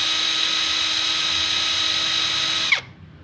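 An APR cordless impact wrench spins freely at its high speed setting with a steady, loud, high-pitched whine, then is released and winds down abruptly near the end.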